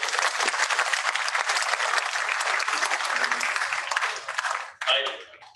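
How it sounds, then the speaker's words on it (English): A large audience at a physics olympiad closing ceremony applauds in a loud, sustained roar of many clapping hands that fades out near the end as a voice begins speaking. "they deserve a round of applause"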